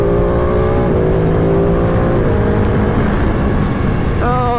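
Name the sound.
Ducati 959 Panigale motorcycle engine while riding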